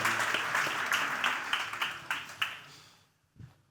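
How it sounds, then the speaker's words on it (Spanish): Audience applause at a tenth-anniversary celebration event for installers, a burst of dense clapping with a few sharper claps that fades out after about three seconds, followed by a brief soft thump. "Vamos a darles un fuerte aplauso"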